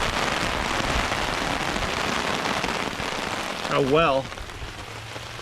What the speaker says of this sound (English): this time we had quite the downpour here